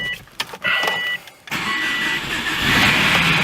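A car that had sat parked for two years cranks and catches, its engine starting with a loud mechanical whir and then settling into a rough, steady running drone close by.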